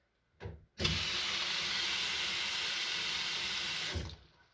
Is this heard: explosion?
no